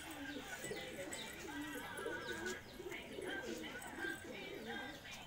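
Vizag pigeons in an Andhra loft give soft, repeated throaty coos in a steady rolling rhythm, close and fairly quiet, with faint chirps and background noise around them and a voice occasionally heard.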